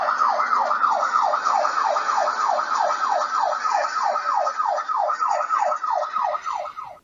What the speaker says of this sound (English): The sound of an ambulance.